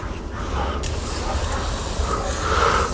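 A steady hissing spray of water runs close up for a few seconds, with a brief pause near the start.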